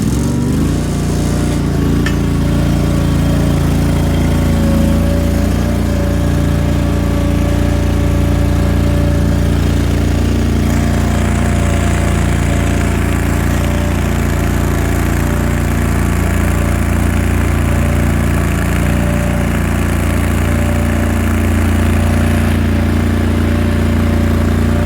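Case Ingersoll 6020 wide loader with a Kohler engine running in high range, a loud continuous low engine drone with steady rumble and no speech throughout.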